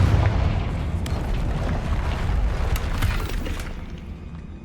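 A Confringo spell explosion in the video game Hogwarts Legacy: a heavy booming blast with crackling debris rumbles loudly, then fades out toward the end.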